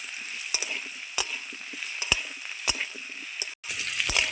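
Potatoes fry in oil with salt and turmeric and give off a soft, steady sizzle. Occasional sharp clicks and taps from a utensil against the pan break through it now and then.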